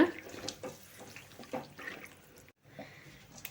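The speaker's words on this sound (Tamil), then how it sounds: "இப்போ தண்ணி வந்து ஊற்றிக்கலாம்" Water poured into a cooking bowl in a home kitchen, intermittent splashing and trickling in short bursts, fairly faint, with a brief pause near the end before the pouring resumes.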